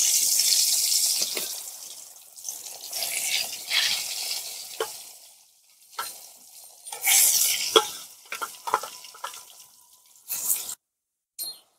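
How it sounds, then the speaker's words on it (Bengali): Eggplant frying in hot mustard oil, a loud hissing sizzle that rises and fades in bursts, with stirring clatter and brief short gaps of quiet, close by and with no voice. "পাঁপড় ভাজা হয়ে গেছে, এবার আমি বেগুনগুলো ভেজে নেবো।"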